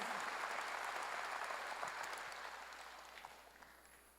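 A church congregation at a Korean revival meeting claps in a dense burst of applause that starts full and gradually fades away over a few seconds, with no one speaking.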